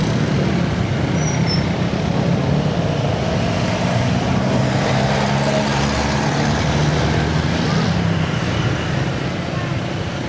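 Dense road traffic with buses and trucks on a Parañaque-to-Cavite route, a steady loud rumble of engines and road noise throughout, with muffled talk faintly underneath.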